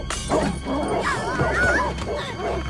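Small cartoon dogs yip and bark in a busy, continuous burst, with a crash-like clatter mixed in and some voice-like sounds under the barking.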